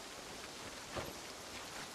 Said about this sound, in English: A ridiculous amount of rain, some might say.